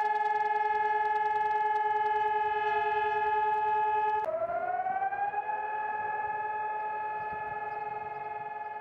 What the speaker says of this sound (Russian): В этот день по всему Израилю в 10 утра звучит сирена.